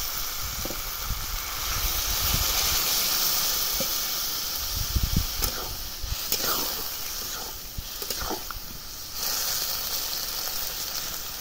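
Sautéed vegetables with raw banana, potato, eggplant and neem leaves hiss and sizzle steadily in a hot pan after a little water is added, with stirring clatter throughout and a voice talking in the background.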